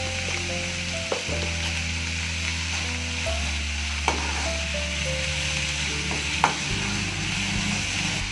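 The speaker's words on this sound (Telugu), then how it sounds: "మూత పెట్టుకుని కొద్దిసేపు వేయించుకుందాం." Cucumber pieces with turmeric and salt fry in a pan under a soft, steady sizzle, backed by a low droning hum and marked by a few sharp knocks.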